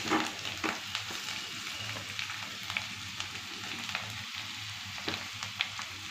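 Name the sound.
mashing potatoes with spices in a frying pan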